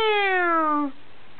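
A voice imitates a cat's meow, a single clear, drawn-out call that slides downward in pitch and then stops, close and fairly loud.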